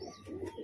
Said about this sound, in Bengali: এটা হচ্ছে আমার বাড়ির বালি পাউডার পায়রা।